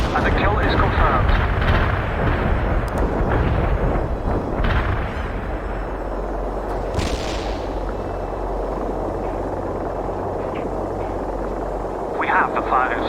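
Artillery fire thunders through a World in Conflict battle, heavy booming blasts and gunfire layered over a dense, continuous rumble of combat with aircraft noise, loud and sustained throughout, with radio-style voices speaking among the explosions.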